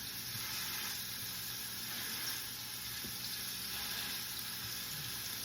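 Burger patties sizzling in a pan, a steady soft hiss and crackle that runs evenly throughout without pause.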